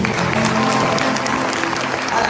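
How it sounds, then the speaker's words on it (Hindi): A church congregation applauding together, brisk, steady clapping from many hands throughout, loud and close, with murmured voices underneath. "योर से ताली दो यीशु।"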